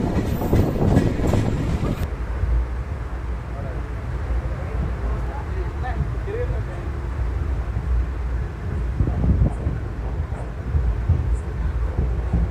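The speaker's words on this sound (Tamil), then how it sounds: "இப்போது ஈரோடுலேருந்தும் ட்ரெயின் ஸ்டார்ட் ஆகிடுச்சிங்க" A passenger train between Erode and Tiruppur, on the Chennai to Calicut route, rumbles steadily along the rails with a continuous low roar and faint rhythmic clatter throughout, recorded from inside the moving carriage.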